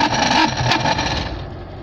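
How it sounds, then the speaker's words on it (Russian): A car's heater blower fan, switched on in a car whose engine water had frozen, gives off a loud, harsh scraping roar that stays steady and only eases slightly toward the end. "С какими-то ужасными звуками печка работает."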